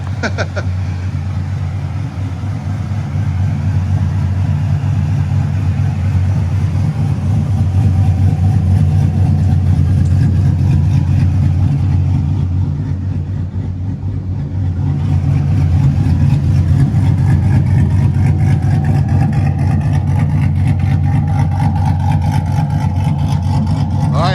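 A 1999 Pontiac Trans Am with an upgraded exhaust idles with a deep, steady burble, rising into loud revs and settling back again, close and continuous throughout.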